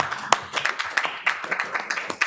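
Sparse, irregular clapping from a handful of people in a legislative finance committee session, a few crisp individual claps at close range spread over two seconds, with no voices over them.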